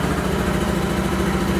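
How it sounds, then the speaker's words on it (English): Abrasive media blasts the combustion chambers of a 1967 Harley-Davidson 74ci Shovelhead cylinder head inside a blasting cabinet, giving a steady, dense, close hiss and roar with an even low rumble underneath and no talk. "pretty much have to blast in pattern"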